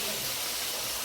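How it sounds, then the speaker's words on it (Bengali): Tilapia fish frying in hot oil in a home kitchen, a steady close hiss and sizzle filling the short stretch without pause. "তেলাপিয়া মাছগুলোকে ভেজে নিই।"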